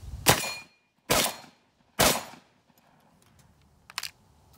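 Panzer Arms M4 Benelli clone semi-automatic shotgun firing three sharp, loud blasts about a second apart, each with a brief echoing tail, then quiet metallic clicks and a fainter clack.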